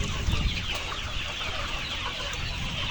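Layer hens clucking at a poultry farm in Kushtia where birds are sold as pullets and point-of-lay hens, a dense continuous flock murmur of overlapping clucks close by, steady and busy throughout with no voices.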